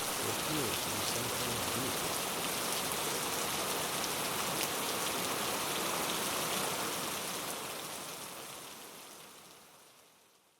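Steady, dense rain pours down in a film scene as a large team walks on through the downpour; the hiss holds constant and full before fading out near the end, with no talk over it.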